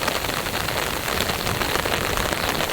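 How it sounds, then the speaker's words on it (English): Heavy rain pours steadily onto a campsite during a violent Colorado storm, a loud, dense, continuous hiss of drops with no voices. "It's raining so hard,"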